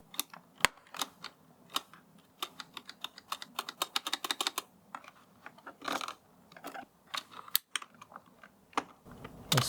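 HyperX PBT pudding keycaps being pried off a Roccat Vulcan Aimo 120 keyboard, a close series of sharp plastic clicks and snaps in irregular bursts, fairly quiet and without talk.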